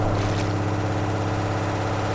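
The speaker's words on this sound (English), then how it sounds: "This boat uses the same logic as the splashes to add a little piston effect on the front of the engine." An outboard boat engine in the block-building game Brickadia runs at a steady, loud drone, a continuous mechanical rumble with a constant high whine layered on top.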